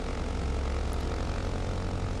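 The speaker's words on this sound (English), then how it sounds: "Right, let's get this engine gunned." The engines of a Loganair BN2 Islander in a flight simulator game roar as they are throttled up, a dense, continuous propeller drone with a deep throbbing low end that stays loud and even throughout.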